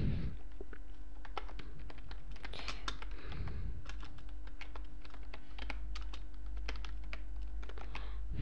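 Quick clicking keystrokes on a computer keyboard as a search term is typed, an irregular burst of taps close up over a steady low hum, no talking.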